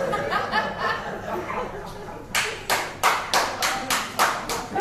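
Audience clapping at a poetry cabaret, starting midway as a series of loud rhythmic hand claps after a murmur of crowd noise and scattered laughter, close and lively.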